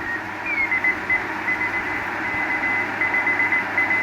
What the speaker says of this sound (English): There's the VK5 beacon.